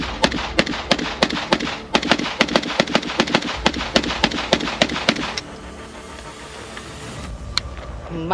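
A ReCreator AK-Forty 7, an American-made AK-47 rifle, fires a magazine in a rapid, uneven string of loud, sharp cracks, then stops and leaves quiet outdoor air.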